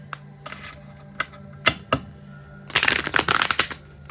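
Tarot cards shuffled by hand: a few separate sharp riffles and taps, then a dense rapid flurry of card shuffling near the end, close and crisp over a low steady hum, with no talk.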